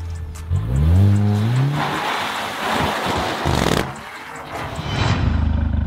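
A Mercedes GLA45 AMG with four-wheel drive revs hard and drifts, its engine note rising before loud tire squeal and skidding take over, close and sustained.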